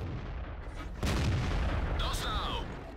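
A tank cannon fires in a World of Tanks-style battle with a T32, one sharp heavy boom followed by a rolling rumble and faint mechanical whine, mid-distance and loud.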